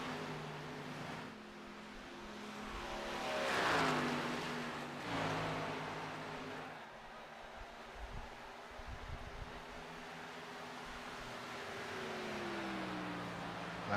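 Race cars circle a Texas oval in an NSRLA national series event, a number 22 Toyota Supra among them; engine drones swell and fade in two passing waves over a distant, wind-buffeted hum.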